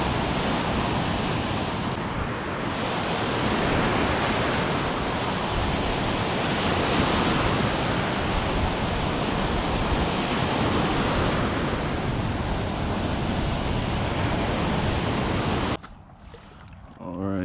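Ocean surf on a foggy morning along the shore, a steady loud roar of breaking waves and wash that continues unbroken before dropping away abruptly at the end.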